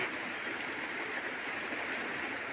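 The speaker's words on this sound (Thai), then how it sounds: "บรรยากาศฝนตก" Rain falling steadily outdoors, a soft continuous hiss that holds evenly throughout with no pauses and no voices.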